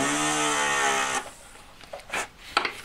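A pendant motor spins a small ball burr against a handmade three-stone ring, giving a steady, close, high-pitched whine for about a second before cutting off, followed by faint scraping and light taps.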